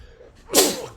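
A single sharp sneeze bursts out in the middle, loud and close, standing alone against a quiet background with a faint tail afterward.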